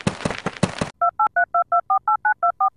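A telephone keypad dials a number, a rapid even series of about ten crisp beeping tones after a short burst of voice at the start.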